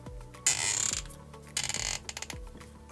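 Elevation turret on an Arken Optics EP5 5-25x56 rifle scope clicking through adjustments, with bursts of crisp ratcheting detents close up, separated by brief pauses and no talking.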